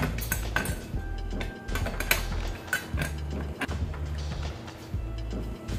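Metal clinks and clatters as a lid goes onto a pressure cooker holding beef bone soup, with several sharp knocks over a low steady hum.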